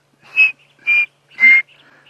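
Three sharp, buzzy calls of an apalis ring out clearly at an even pace, each short and bright, in an otherwise quiet setting at sunrise on safari.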